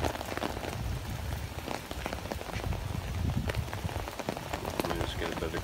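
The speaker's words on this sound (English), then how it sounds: "You guys can see the blowing rain." Wind-blown rain pours down on a New York City street during a severe August thunderstorm, a loud, dense, close-up roar of drops and gusts that never lets up.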